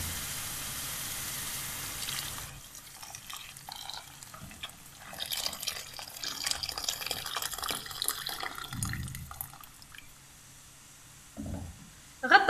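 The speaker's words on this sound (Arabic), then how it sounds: "مرقي بالماء سخون" Hot water is poured into a pan of chicken and olive tagine frying in oil, giving a sizzling wash that gives way to a softer liquid gurgle and scattered drips. Close and alone, with no talking.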